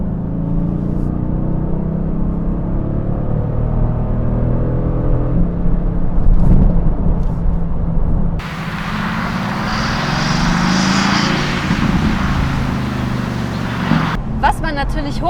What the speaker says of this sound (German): ist einfach der AMG V8 Biturbo-Motor mit seinen 476 PS